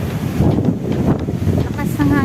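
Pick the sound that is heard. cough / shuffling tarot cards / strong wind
strong wind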